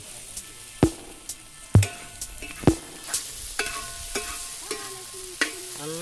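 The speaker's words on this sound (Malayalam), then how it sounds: "നന്നായി എന്ത് ചെയ്യുക, വഴറ്റിയിടും." Onions and shallots sautéing in a pan for Kerala-style beef fry, with repeated sharp scrapes of stirring over a steady close sizzle, no talking.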